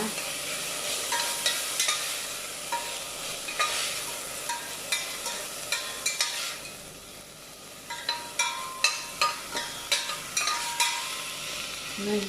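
Breadfruit curry ingredients fry in a pan, with a continuous close sizzle and regular scraping stirs that grow quicker and more rhythmic toward the end.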